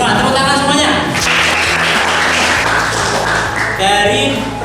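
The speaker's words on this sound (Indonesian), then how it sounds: "Kelompok satu bagus sekali semua, tepuk tangan semuanya." Classroom audience applauding group one's presentation at a university event in Bukittinggi; a burst of clapping swells in the middle, with voices talking before and after it.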